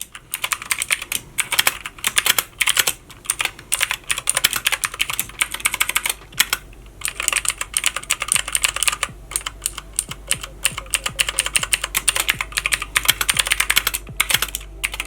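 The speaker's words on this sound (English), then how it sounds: "This is the loudest keyboard I have ever tested," Rapid, loud clacking of a Magic-Refiner MK14 mechanical keyboard being typed on continuously, sharp key strikes in quick bursts with brief pauses.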